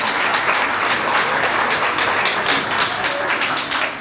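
A talk show audience at Jalvayu Vihar in Greater Noida breaks into thick, continuous applause, a loud uniform roar of many hands clapping without pause for the full four seconds.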